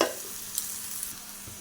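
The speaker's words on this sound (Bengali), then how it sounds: "পেঁয়াজটা একটু লাল করে ভাজতে থাকবো" Onions fry in a pan as a soft, continuous sizzle with faint stirring, brief and without speech.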